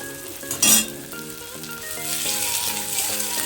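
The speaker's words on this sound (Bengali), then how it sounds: "কড়াইয়ের মধ্যে দিয়ে দিয়েছি একটু পেঁয়াজ কুচি লঙ্কা কুচি দিয়ে একটু লাল লাল করে ভেজে নেব" Chopped onion and chilli sizzle and crackle in hot oil in a wok, with ginger paste going in, a steady fry punctuated near the start by a sharp metallic clink of a utensil, then stirring scrapes.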